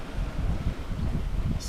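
Wind rushing past the microphone aboard a sailboat at sea on a crossing to Corsica, a continuous rough low rumble with gusty fluctuations and no voices.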